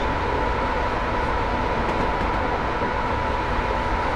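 A Class 87 electric locomotive runs in Train Simulator 2015 on the West Coast Main Line over Shap, giving a steady, loud cab drone and rolling rumble with a faint electrical whine throughout.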